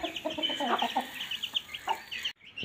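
A rooster clucks repeatedly nearby in short, uneven bursts, with faint background noise and a brief quiet gap near the end.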